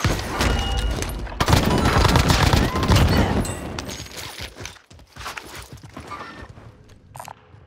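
Rapid gunfire and sharp shots ring out in a Warzone Pacific battle, some coming from a distant mountain, forming a dense, loud volley that thins into scattered cracks toward the end.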